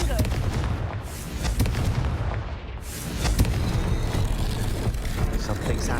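The Confringo fire spell in Hogwarts Legacy sets off deep, rumbling blasts layered with booming impacts and a dense roar, loud and close and continuing through the stretch, with a voice briefly heard beneath.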